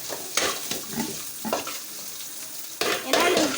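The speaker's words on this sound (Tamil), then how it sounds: "உப்பு சேர்த்துட்டு நம்ம அதை நல்லா வதக்கிக்கலாம்." Food sautéing with salt in a pan, stirred in repeated scraping strokes over a steady sizzle, close and moderately loud with no talking.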